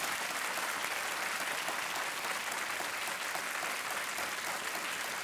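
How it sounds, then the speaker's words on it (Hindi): A studio audience on a quiz show claps steadily and loudly, a dense unbroken wash of applause with no talking over it. "तालियां बजती रहनी चाहिए देवियों सज्जनों।"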